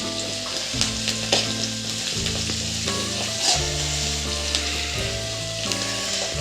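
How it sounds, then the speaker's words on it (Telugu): Cashews fry in hot oil for garlic fried rice, a dense continuous sizzle with occasional stirring scrapes, close and steady, while a low tonal hum runs underneath. "జీడిపప్పులు ఇలా ఫ్రై అయితే సరిపోతుంది"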